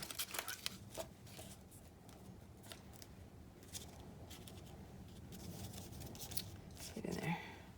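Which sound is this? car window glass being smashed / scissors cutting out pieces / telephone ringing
scissors cutting out pieces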